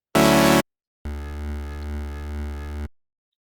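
A synth bass designed in Serum, heard as a short bright stab followed by a sustained buzzy bass note with a slowly wobbling, filtered tone lasting about two seconds, loud and alone.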